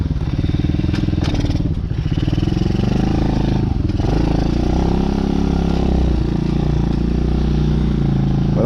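A small motorcycle engine running while its rider sits on the bike in full gear, not yet warmed up: a loud, steady close-up drone with a slight pitch dip and recovery midway, no speech.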